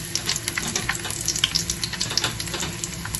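Garlic sizzles in cooking oil in a casserole pot, a close, steady frying crackle with occasional stirring scrapes and no talking.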